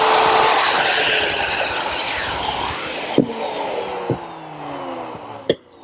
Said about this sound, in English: To remove the material, I'm using my router, which is set up with a collar and a 3/8 inch straight cutting bit.